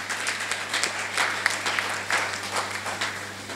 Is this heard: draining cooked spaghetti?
no